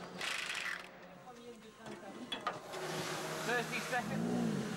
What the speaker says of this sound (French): Benoît repart donc avec 2 pneus neufs avant de céder le baquet un peu plus tard à Bernard